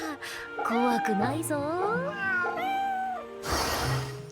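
Several cats meow in the video game Fate/Samurai Remnant, a run of close, clear rising and falling cries in quick succession, followed by a short burst of noise.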